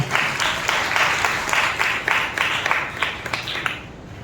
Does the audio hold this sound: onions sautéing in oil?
no